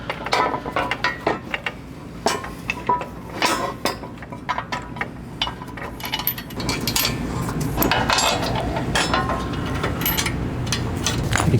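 A 19mm or 15mm socket ratchet tightens factory bolts during a 6.5-inch lift kit install on a 2020+ GM 2500 truck, with rapid clicking bursts, metallic clinks between strokes and a steadier ratchet run toward the end, close and unaccompanied by talk.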